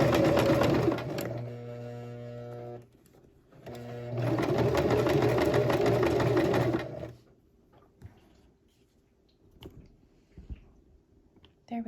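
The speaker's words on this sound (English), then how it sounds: "I'm going to sew all the way to about here because I'm going to pivot" Home sewing machine stitching a shirt seam at 5/8 inch allowance, running in two long loud bursts separated by a brief pause, then stopping, followed by quieter handling clicks.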